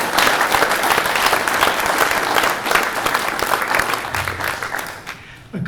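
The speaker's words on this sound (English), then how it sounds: "How about a round of applause?" Applause from the audience at an Ojai Rotary club meeting, loud and dense clapping that holds steady for several seconds before thinning and fading out near the end.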